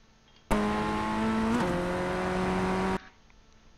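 Ray FF1600 race car in iRacing at Mount Panorama, its engine holding a loud steady drone that rises, briefly dips and shifts pitch, then sustains before cutting off abruptly.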